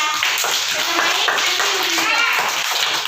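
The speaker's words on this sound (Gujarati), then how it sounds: "ચક્કીબેન ની વાર્તા સાંભળવી છે તો તાળી પાડી પહેલા" Group of children clapping together before a storytelling session, brisk continuous claps close to the microphone with voices mixed in throughout.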